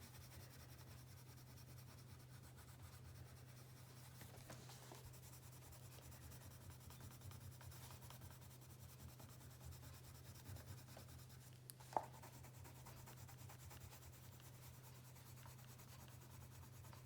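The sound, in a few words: colored pencil blending and burnishing on paper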